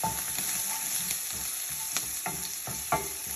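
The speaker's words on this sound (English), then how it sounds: "Now stir it all up." Spices including cloves and a small cinnamon stick fry in a hot pan while a spoon stirs through them, giving a steady close sizzle with repeated light scraping strokes and no talk.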